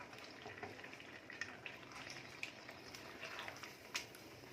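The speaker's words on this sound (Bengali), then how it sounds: "ভালো করে টক দইটা এখন মিশিয়ে নিয়েছি।" Yogurt is being stirred into Kashmiri chicken curry in a pan over a very low flame, making a faint, soft sizzle with scattered gentle scrapes and taps from the spoon, and no talking.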